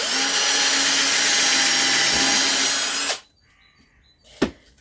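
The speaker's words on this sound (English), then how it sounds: "So I'm going to do two small pilot holes first" A power drill whines steadily at high speed for about three seconds boring a small pilot hole, then stops abruptly; a brief sharp knock follows in the quiet.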